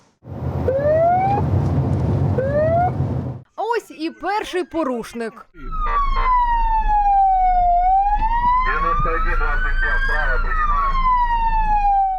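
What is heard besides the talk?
ambulance siren on road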